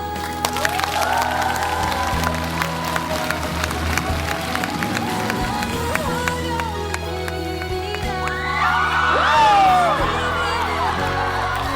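An audience at a Korean drama awards ceremony claps and cheers, a continuous mass of applause with scattered whoops and crowd voices that swells toward the end.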